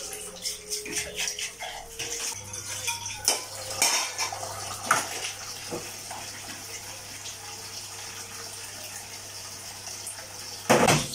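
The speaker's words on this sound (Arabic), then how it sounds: "نشطف بقى الكوبايات كده" Glasses and dishes being rinsed under running tap water in a home kitchen after a big meal, with clinks of glassware and cutlery against crockery over a steady water stream, close and moderately loud.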